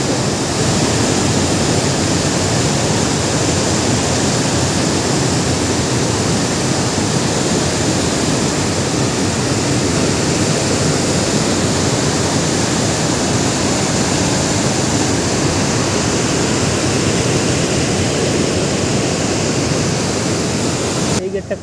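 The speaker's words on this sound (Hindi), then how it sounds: "पानी जा रहा है। देखो भाई कितना स्पीड से," Water from the Ruguda dam near Bonai, Rourkela, rushes out in a loud, steady roar that fills the whole clip without a break, broad and unchanging like a big spillway torrent heard up close.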